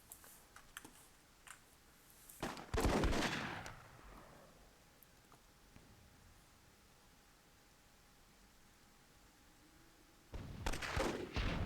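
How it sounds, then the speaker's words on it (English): Cannon fire in the fantasy strategy game Myth II: Soulblighter, heard as a loud burst around the third second that decays over about a second, with a second heavy blast near the end over a steady low game hum. "Nice cannon shot there from somebody."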